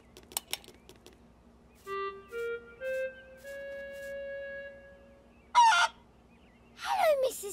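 A cartoon chicken in a children's animated show: a few sharp knocks, then sustained tonal honking calls, followed by two loud harsh squawking bursts near the end, with quiet background between.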